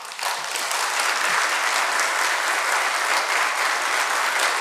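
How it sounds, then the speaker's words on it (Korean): A lecture audience breaks into sustained applause welcoming a speaker, dense and even, filling a large room for several seconds. "우리 신명필 박사님 나오시면은 다 같이 박수로 환영하겠습니다"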